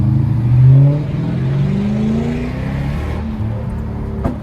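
Lexus GS430 V8 running without catalytic converters, revving up loudly nearby with a rising, raspy engine note that settles into a steady drone, ending with a short sharp pop.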